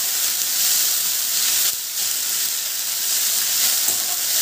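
Tender tamarind leaves frying in a pan over low flame for a chutney, a constant strong hiss and sizzle with a brief stir around the middle, near and uninterrupted by voices.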